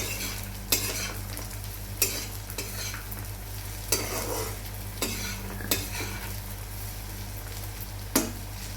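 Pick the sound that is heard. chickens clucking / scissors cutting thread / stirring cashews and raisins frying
stirring cashews and raisins frying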